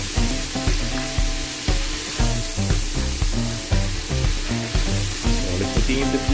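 Mantis shrimp (alupihang dagat) fry in butter and garlic, a steady close sizzle with rhythmic scraping and clinking of a utensil stirring and flipping them in the pan.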